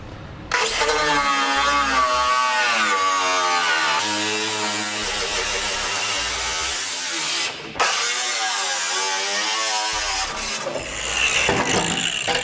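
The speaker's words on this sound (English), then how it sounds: "I'm going to use a cutting wheel to make my cuts here and here, and pretty far back on both sides" A cutting wheel grinds steadily through the metal bed of a 2015 Chevrolet pickup, a loud continuous whine that drops out briefly once before resuming, then ends with a clattering pause.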